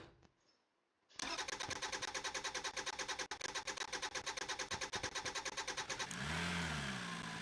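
Engine of a vehicle in the Drive Beyond Horizons video game cranking after a brief pause, then settling into a steady, loud, rapidly pulsing idle that swells into a smoother rev at the end.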